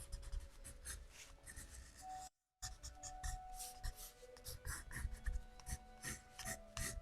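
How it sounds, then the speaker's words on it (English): An ink pen sketches across paper in close, quiet detail, with steady scratchy strokes and rubbing in an uneven rhythm and a brief pause partway through. "I love the sound of sketching with this thing."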